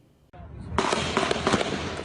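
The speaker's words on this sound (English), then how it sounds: "the chilling moment that rapid gunfire broke out in Alexandria this morning" Rapid gunfire captured on a cell phone during a morning shooting in Alexandria, a quick string of cracking shots rising suddenly and continuing in dense bursts amid voices.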